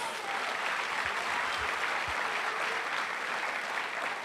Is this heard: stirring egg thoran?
no